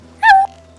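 A dog whimpers in the video game Majora's Mask Master Quest, a single short, loud, high whine that slides slightly downward and then stops.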